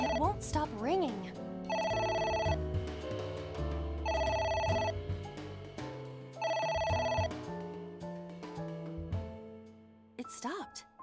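A telephone bell in a game scene rings in three long metallic bursts separated by pauses, loud and close, over a background music score.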